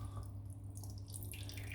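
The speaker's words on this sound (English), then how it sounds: "I'm just going to tip out the bloom water now." Water tipped out of a shaving soap tub into a bathroom sink, a quiet close trickle and a few drips over a low background hum.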